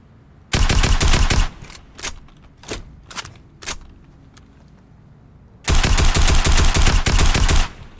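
Loud rapid automatic gunfire from a new gun in a video game, two long sustained bursts at the start and end with a few separate single shots in between, close and alone.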